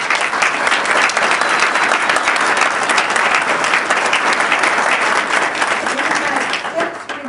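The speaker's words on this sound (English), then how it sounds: "let's give you all a round of applause?" A staff meeting audience gives a sustained round of applause, a dense, steady wash of many hands clapping close by for several seconds before it begins to taper off at the end.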